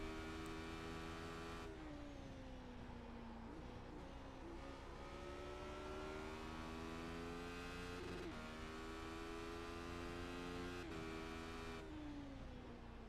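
A high-pitched old IndyCar racing engine in a video game whines continuously, its pitch climbing through the gears and dropping sharply at each shift, several times, with no voices.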